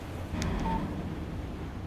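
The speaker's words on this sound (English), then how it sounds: "Text message from Barry." Short electronic text message alert chime from a phone in Alan Wake Remastered, a brief tone standing out once over a low ambient rumble, with no talking.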